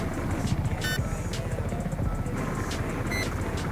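Helicopter in Battlefield 4 as a continuous low rotor and engine drone with a few short electronic beeps, while someone speaks French over it.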